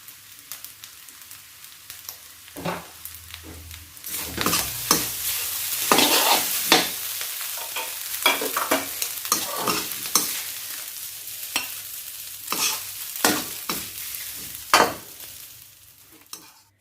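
Egg fried rice with pork and pepper is stir-fried in a pan, with a steady sizzle and a run of loud, irregular scraping and clattering strokes from the spatula. No one speaks.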